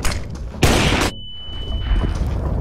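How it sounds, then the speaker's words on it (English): A flashbang grenade detonates in a video game: a sharp, loud bright burst lasting about half a second, followed by a thin high ringing tone and low rumbling ambience. "Oh yes, the master flashbang"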